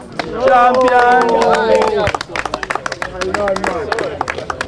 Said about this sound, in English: you clap him.